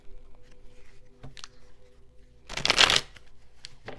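Tarot cards shuffled in one brief burst of riffling, loud and close, surrounded by quiet room tone with a few faint taps.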